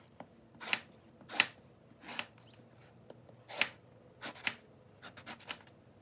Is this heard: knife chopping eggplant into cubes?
yes